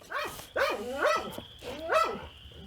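Young dogs barking in a dog training session, four loud, close barks with yelping, rising tones in an uneven rhythm, and a faint high whine running through the middle.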